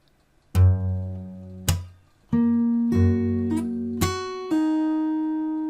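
Plucked acoustic guitar notes from a fingerstyle arrangement ring out one at a time, with sharp percussive slap attacks between them and sustained tones decaying in a quiet room.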